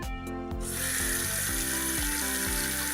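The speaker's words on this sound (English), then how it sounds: "Turn on the water." A toy pink sink's tap runs with a steady hiss of water over a looping tinny electronic jingle, close and continuous for several seconds.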